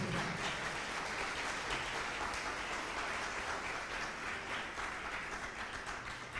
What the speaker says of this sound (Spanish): Denle el aplauso al Señor por eso.